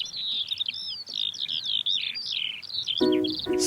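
Spring chorus of skylarks trilling and warbling continuously, with a Eurasian curlew's distinctive call mixed in among the birdsong outdoors; a louder, lower burst of bird calling near the end.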